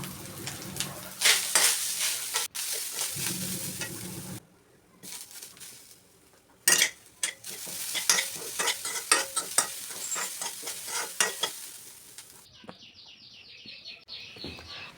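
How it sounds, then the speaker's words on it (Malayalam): Coconut and spices roast in a pan with steady sizzling and repeated scraping and stirring strokes, close up, with a few brief pauses and a chirpy high sound near the end. "നമുക്ക് കുറച്ച് തേങ്ങ വറുത്തെടുക്കാം"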